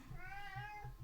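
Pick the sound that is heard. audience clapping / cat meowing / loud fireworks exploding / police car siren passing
cat meowing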